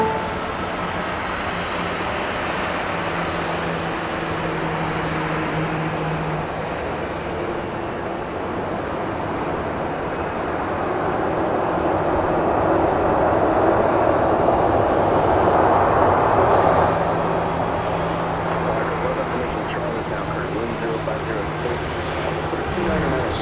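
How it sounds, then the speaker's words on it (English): A Southwest Boeing 737-700 jet departing Dallas Love Field, its engine roar a broad steady rumble that swells toward the middle and then eases, with people talking faintly underneath. "An outgoing Southwest flight, 737-700."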